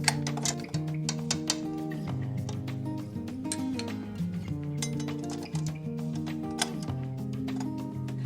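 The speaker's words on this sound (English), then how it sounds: "Let's replace the paddle attachment with the dough hook." A KitchenAid stand mixer's paddle attachment is swapped for the dough hook, giving a string of light metallic clinks and ticks under steady background music.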